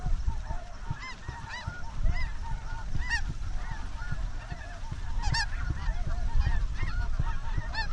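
A large flock of Ross's geese honks continuously overhead, dense overlapping high calls with some sharper, louder cries standing out, heard alone without talk.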